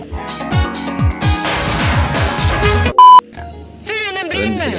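World of Tanks game alarm: a loud steady beeping tone cuts in briefly after a busy stretch of music-like tones and thumps, followed by rising electronic chirps.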